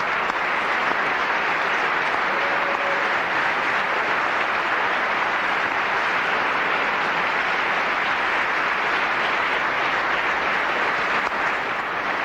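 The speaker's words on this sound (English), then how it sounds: "please let's give them all a huge round of applause for their tremendous work" Steady, even applause from an audience at the 1999 Interactive Achievement Awards ceremony, a continuous broad wash of clapping at constant loudness throughout.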